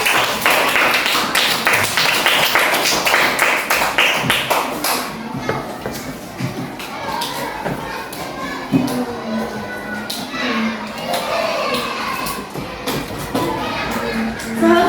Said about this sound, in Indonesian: Tepuk tangan untuk Dion.